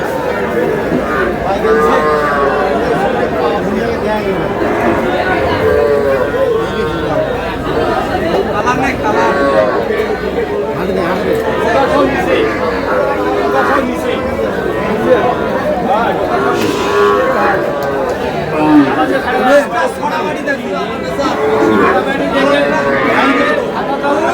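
Cows and calves moo again and again at the busy Aftabganj cattle market, their calls mixed into constant crowd chatter and nearby talking.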